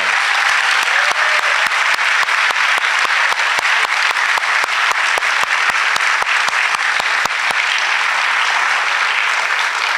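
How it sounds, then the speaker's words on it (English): Loud, sustained applause fills a hall at a high school senior awards night for the class of 2024, steady and even throughout with no break. "I offer a final round of applause for all the members of the class of 2024"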